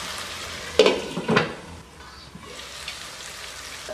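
Fish masala curry (machli ka salan) simmers and sizzles in a pan. A steady close hiss carries a couple of sharper stirring scrapes near the start, then settles into a softer bubbling sizzle.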